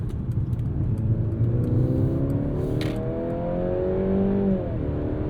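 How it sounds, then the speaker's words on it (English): A steady engine drone, piped into the cabin in Sport mode of a 2022 Mercedes-Benz C300 4MATIC sedan, rises and climbs in pitch as it accelerates, continuous and moderately loud. "Also get a bit of piped in engine noise if you go into Sport or Sport Plus mode."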